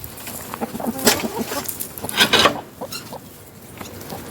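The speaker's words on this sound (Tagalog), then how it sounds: "mga manok" Chickens cluck and scratch nearby in short irregular bursts, with rustling and scraping sounds between the calls.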